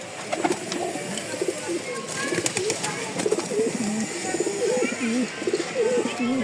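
Racing pigeons of club bloodlines coo repeatedly in a loft, overlapping calls in a steady rolling rhythm, close and fairly loud, with faint background noise and no clear talk.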